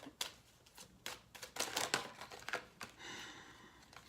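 Tarot cards are shuffled in a series of soft, papery riffles and taps, faint and close, with brief bursts of crinkling between quiet gaps.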